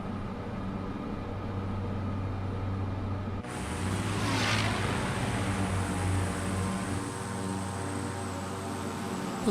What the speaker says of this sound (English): There's a P-51 out here.